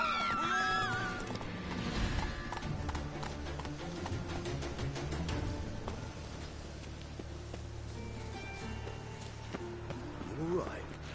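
Hoofbeats of Roach, Geralt's horse in The Witcher 3, clopping in a quick rhythm under game music and spoken dialogue, moderately close.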